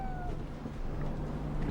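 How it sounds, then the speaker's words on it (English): A ship's cat meows aboard an expedition ship, a short cry heard amid dense low rumbling background noise. "What was that? Ship's cat"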